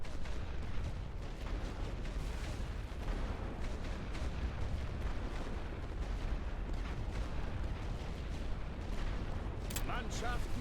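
An artillery barrage in The Great War Western Front game: a dense, unbroken roar of shelling and crackling fire runs the whole length, fairly loud and steady, with faint voices beneath.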